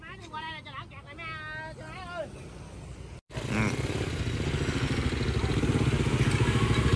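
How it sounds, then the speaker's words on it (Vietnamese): Motorcycle engine droning steadily close by on a busy bridge road in traffic, rising after a brief cut and holding loud to the end; people talk over the first half. "xe máy đi qua đây nè"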